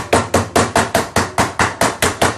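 A meat tenderizer pounds pork flat on a board, ten evenly spaced loud thuds in a quick steady rhythm, close and with no voices.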